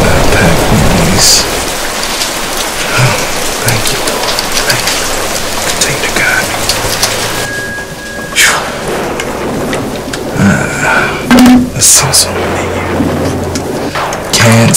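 Rain falls steadily and heavily on surfaces nearby, with a few louder drips and rumbles standing out over the continuous hiss.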